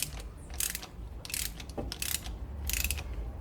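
A ratchet wrench clicks in quick bursts while unscrewing a spark plug from the AP engine of a VW Gol G3 Power, four close, crisp ratcheting runs separated by short pauses.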